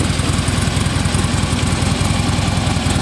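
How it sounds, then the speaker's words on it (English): 2014 Harley-Davidson Street Glide Special with its new 103 cubic inch high-output V-twin engine idling, a loud, close, rhythmic low potato-potato thump that stays steady throughout. "Got a brand new motor for this year, the 103 cubic inch high output motor."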